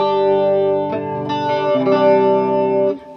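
Electric guitar chords ring out with a shimmering, swirling chorus effect through a Supro 24 clone amp, several strums sustaining loudly with no voices.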